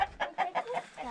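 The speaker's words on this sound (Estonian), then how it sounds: "Mul on kana käes või kukk tähendab." A rooster clucks in a quick run of about six short, close bursts, loud and fairly even in rhythm, with no talk over it.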